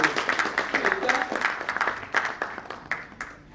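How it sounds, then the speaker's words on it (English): Audience applause for a woman being welcomed at a leadership summit: a dense burst of hand clapping from a crowd, loud and close, with some talk mixed in, staying steady and then easing off slightly toward the end. "So give a round of applause to her."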